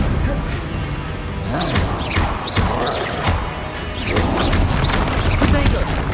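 A fiery Confringo spell blast in Hogwarts Legacy crashes and bursts repeatedly amid ongoing combat noise, with sharp impacts and swooshes layered over a dense, loud background and some vocal sounds mixed in.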